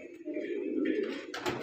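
A black female pigeon coos in a single soft, low, throaty call lasting about a second, close by and alone, with a brief brighter rustle or flutter at the end.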